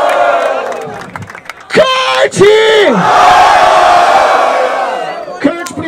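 A rap battle crowd at Batalha da Aldeia in Barueri cheers, whoops and shouts loudly in a sustained roar, with a host's voice calling out over it at the start and end.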